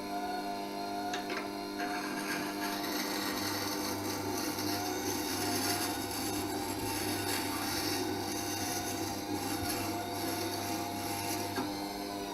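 A V profile wood carving tool being sharpened on a grinder, with a steady continuous whirring grind and a faint rasping edge throughout, close and even with no pauses or speech.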